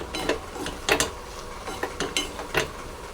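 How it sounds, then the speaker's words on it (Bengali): Shrimp masala with turmeric and Kashmiri chili is stirred in a pan, a run of rhythmic scraping and clinking strokes of the spoon against metal, close and moderately loud, without speech. "নাড়াচাড়া করে নেব।"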